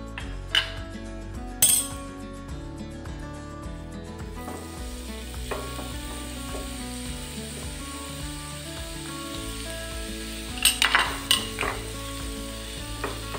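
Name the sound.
grated pumpkin frying in ghee in a frying pan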